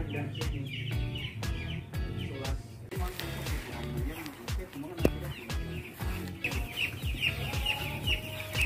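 Young broiler chicks about five days old, packed in a closed-house poultry shed, cluck and cheep continuously at close range in dense overlapping calls.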